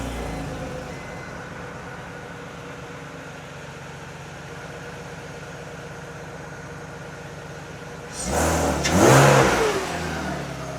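A BMW E46's engine idles with a steady low rumble, then suddenly revs up loudly near the end before dropping back.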